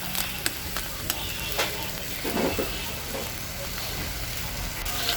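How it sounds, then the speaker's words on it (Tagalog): Mussels sautéing with ginger in a pan, a steady broadband sizzle and crackle with a few sharp pops and stirring clatter, close and continuous throughout. "igisa-gisa lang natin yan guys"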